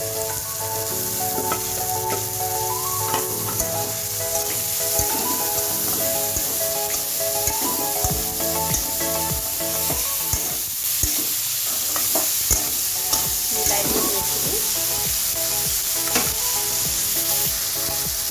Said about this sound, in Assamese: এতিয়া ইয়াতে বইল মটৰ আৰু আলুখিনি দি দিম।